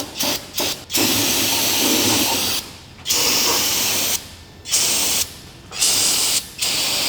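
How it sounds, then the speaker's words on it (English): Brake cleaner hisses from an aerosol can onto the aluminum oil pan of an engine being prepped for an LS swap in an FRS, in repeated loud close bursts with short pauses between them. "just using some brake clean, any kind of parts cleaner,"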